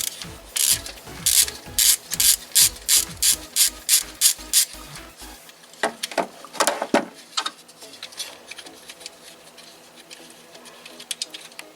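Ratchet wrench loosening a 12 mm nut on a Kia 1.8/2.0 Nu engine, a run of about a dozen quick, evenly spaced clicks close up, then a few scattered louder clicks and light metallic handling.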